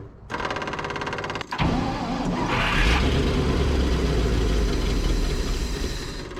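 Engine of an abandoned 1959 Chevrolet truck fitted with a Buick Nailhead V8 catches and runs steadily after a brief cranking burst, a loud, close, rough idle with a deep low rumble and no talking.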